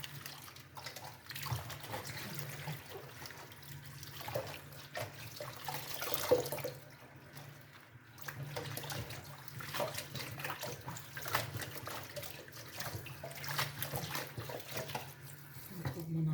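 Tap water runs steadily during washing in a home kitchen, a continuous broadband rush with a low hum underneath, holding fairly even for the whole stretch.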